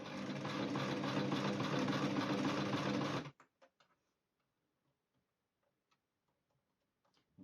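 A normal home sewing machine runs a straight seam on spandex, its steady rapid needle chatter loud and continuous for about three seconds, then stopping abruptly, leaving faint clicks and handling noises.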